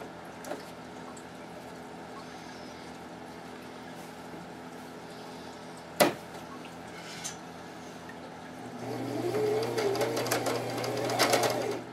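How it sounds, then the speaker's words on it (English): A sewing machine stitches down fabric for a tablet cover, starting up near the end as a steady mechanical whir after a quiet stretch broken by one sharp knock. "So I'm going to go ahead and sew this part down."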